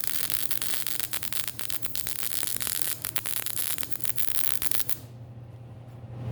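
A small 110-volt wire welder running 90 amps with .023 wire and CO2 shielding gas tacks metal table legs, producing a steady crackling, sizzling buzz with popping spikes for about five seconds before it stops, leaving a faint hum.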